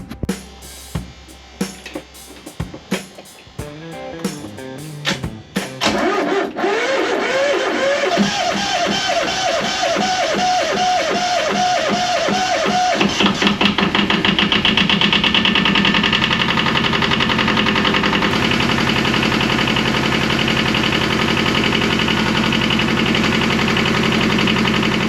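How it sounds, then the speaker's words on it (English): Auxiliary engine of an old sailboat cranks with sputtering bursts, then catches and runs close and loud with a steady, even drone for the rest of the clip. "I'm gonna fire it up and see if my batteries are charging."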